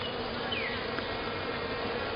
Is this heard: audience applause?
no